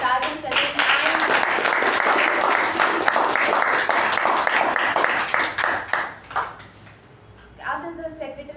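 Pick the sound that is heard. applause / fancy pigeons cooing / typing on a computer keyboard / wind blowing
applause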